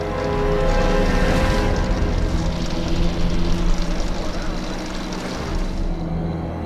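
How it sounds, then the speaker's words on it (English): A film-prop gear machine built as a human-sized grinder runs while fed silicone and foam legs, a loud, steady, close mechanical drone with a dense rumbling whir that holds throughout. "Let's start the gears."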